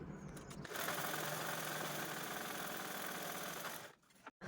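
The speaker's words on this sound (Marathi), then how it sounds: "या झिपवरती पुन्हा अजून एक टिप द्यायची आहे कडेने" A sewing machine runs steadily for a few seconds at close range, adding a second line of edge stitching to a zipper on a large fabric travel bag, then slows and stops.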